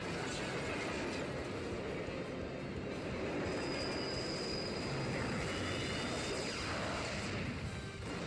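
The Demon Train attack effect from the video game Bravely Second plays as a steady, rumbling roar of a rushing train, with high metallic whines sliding through it across several seconds.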